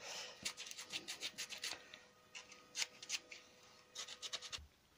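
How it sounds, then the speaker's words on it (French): Close, quiet rasping strokes of hand sanding saw burrs inside a wood-turned flower, coming in quick rhythmic bursts separated by short pauses. "Poncer un peu l'intérieur des petites bavures de bois de scie"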